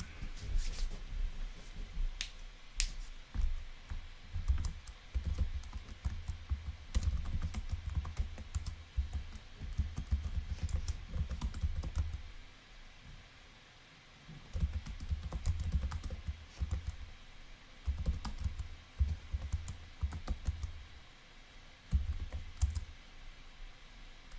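Computer keyboard keys clatter as commands are typed into the space-salvage game Duskers, in bursts of quick close clicks with short pauses between runs, carrying on almost continuously with no talking.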